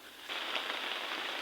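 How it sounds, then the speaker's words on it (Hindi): Steady rain falls on a hillside homestay in the mountains, a continuous even hiss of drops on surfaces that swells louder after a brief start and holds constant, with no talking. "ये देखिए गाइस बारिश भी होने लग गया है।"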